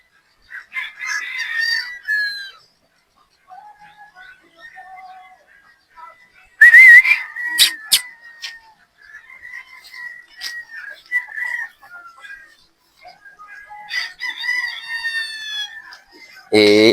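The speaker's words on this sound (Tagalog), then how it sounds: "Ito po, gwapong manok ito mga bossing." Rooster calls and clucks come in bursts, with a sharp crow midway, fairly close against a quiet background with occasional clatter.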